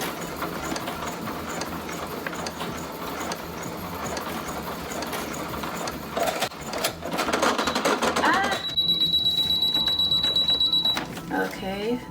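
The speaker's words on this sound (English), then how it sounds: "Now we're gonna cut to me actually trying to sew two of the pieces together." A sewing machine runs continuously, stitching rain suit fabric pieces, with a steady loud mechanical whir and rattle that speeds up toward the end before a brief high tone and stop.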